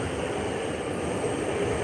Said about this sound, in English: You can hear the trains going above.